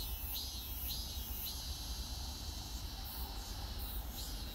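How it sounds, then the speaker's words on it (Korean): A constant shrill drone of cicadas in summer fills the air, with pulsing high buzzes rising and fading over a steady background hum. "야, 매미 소리가 요란하네."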